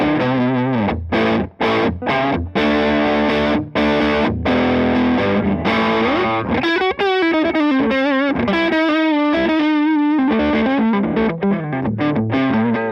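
Electric guitar with Lindy Fralin pickups, played on the neck pickup through a Matchless Avalon amp. Loud, warm, overdriven chords and single notes come in choppy rhythmic bursts, followed by sustained bending lines, with no talking.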